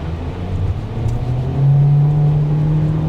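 A car with a CVT transmission accelerating: a steady, close engine drone that climbs into one smooth sustained tone with no gear shifts, loud and alone.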